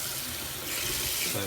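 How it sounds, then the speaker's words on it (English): Hot water runs steadily from a tap over a doll's head, rinsing shampoo out of its hair; a broad, continuous splashing rush with a brief spoken word over it. "So I'm using hot water."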